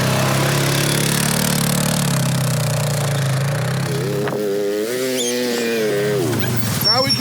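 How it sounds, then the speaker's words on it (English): An ATV engine drones loudly and steadily as it drives over a big pile of stuff, the pitch rising and wavering near the end. "we randomly drive on the ATV over a big pile of stuff"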